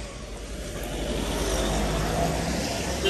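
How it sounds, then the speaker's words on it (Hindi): Steady road traffic near Darjeeling zoo on a busy Saturday, a continuous wash of car engines and tyre noise close by with no break. "मोस्टली यहाँ पे बहुत ट्रैफिक है"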